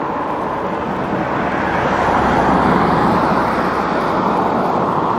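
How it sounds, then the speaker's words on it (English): Steady, dense road traffic noise rolls on as a continuous broadband roar without breaks, heard close during an e-bike ride. "Too much traffic today."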